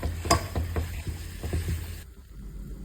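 Chilapi fish stirred through masala in a pan, a few distinct scraping knocks of the spoon over a low sizzle, close and fairly quiet, fading out near the end.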